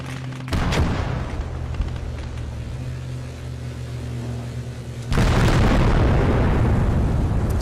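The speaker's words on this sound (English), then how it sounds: "quite a big bomb he drops down there, as you can see" Airstrike bombs exploding in the World War II strategy game Call to Arms - Gates of Hell: Ostfront, a loud sustained rumble of blasts that builds into a heavier, denser roar of explosions near the end, with no talk.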